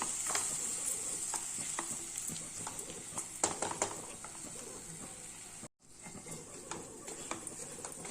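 Rice sautés in a pan for coconut milk rice, giving a continuous hissing sizzle with repeated light scraping and tapping from a stirring spoon, close and moderately quiet.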